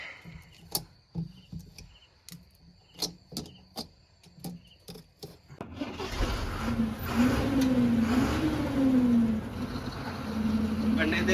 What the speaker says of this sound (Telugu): బండి అయితే స్టార్ట్ చేసాడు, ఇక బయలుదేరుతున్నా.